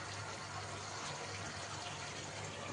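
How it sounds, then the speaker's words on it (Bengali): A steady, continuous rush of water being poured from a bowl into frying spices for potoler dolma, a broad, even wash of sound with no pauses and no talking. "এবার 1 বাটি জল দিয়ে দেবো।"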